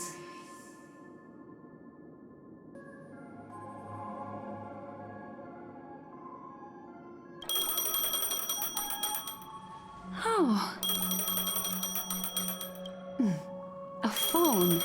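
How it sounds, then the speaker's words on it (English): Phone ringing in Honkai Star Rail game, bursts of bright electronic ringing tones in repeated bursts over background music, with a brief voice exclamation. "A phone. Wanna listen in?"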